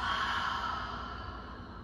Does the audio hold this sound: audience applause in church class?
no